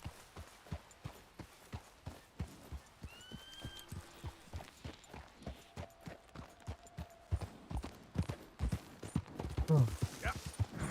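Horse hooves clip-clop in a steady galloping rhythm in the Red Dead Redemption 2 video game, with a few brief tonal game sounds and a louder burst near the end.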